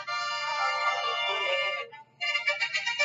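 Tinny orchestral music, "March of the Toys," with sustained tones plays from a phone speaker, breaking off briefly before resuming with pulsing chords.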